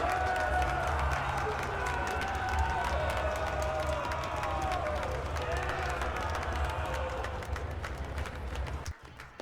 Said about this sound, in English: Applause, mesdames and messieurs!